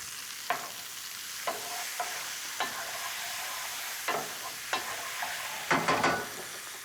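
Cornichons and scallion whites sizzle in a little oil in a pan, a soft steady frying hiss broken by a handful of sharp stirring scrapes, the last few bunched close together.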